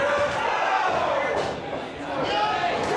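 A wrestling arena crowd roars and cheers for Jimmy Preston during a match against Warbeard Hanson, a steady loud din with a few thuds, while commentators talk over it.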